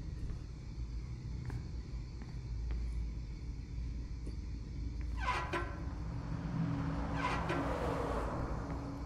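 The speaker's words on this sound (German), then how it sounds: "Das war ein Auto." Car passing by outside in the horror game The Nightfall: a low rumble builds, then a whooshing tire-and-engine sweep rises and fades over several seconds, heard through steady background hum.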